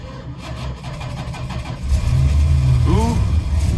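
The engine of a 1968 Chrysler Imperial barn find cranks with rhythmic starter churning, then catches and settles into a loud, rumbling run, close by.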